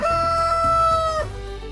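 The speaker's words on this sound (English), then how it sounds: "here's a rooster. He wakes up the farm with a big cock-a-doodle-doo" A single loud rooster crow, close and sustained, a drawn-out tonal call that drops off at the end over a low background.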